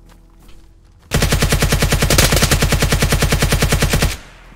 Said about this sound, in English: I lit him with the whole mag.